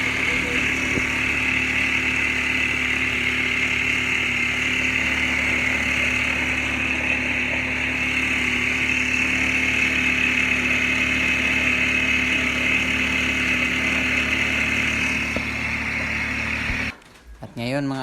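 Repaired lawn mower engine running, a steady, loud, buzzing drone with a constant pitch that holds for most of the stretch before sputtering and cutting briefly near the end.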